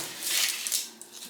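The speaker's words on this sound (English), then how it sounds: "I'm gonna cut like a little less than half of this onion." A kitchen knife chops through half an onion on a cutting board, giving a few quick, close, crisp taps and scrapes in a short burst.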